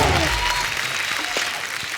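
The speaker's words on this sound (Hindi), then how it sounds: "इनके लिए जोरदार ताली हो जाए" A studio audience applauds on a comedy chat show, a dense burst of clapping that starts loud and tapers a little over two seconds.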